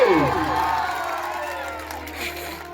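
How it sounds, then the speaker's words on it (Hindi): An audience at a Bhojpuri devotional jagran claps and cheers in a steady wash of crowd noise, carried over ongoing music with sustained tones throughout. "भाई एक बार ताली बजाओ ना भाई के नाम पे"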